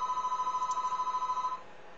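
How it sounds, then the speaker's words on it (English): A telephone rings with a rapid electronic trill, steady pulsing bursts held for about a second and a half before cutting off, leaving faint room hiss; no one speaks. "Dang you, telephones."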